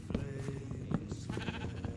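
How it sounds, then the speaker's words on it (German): Sheep in the Minecraft video game bleating in quick repeated game bleats, steady and fairly loud over game background sounds, with no talk over them. "Da ist ein Schaf."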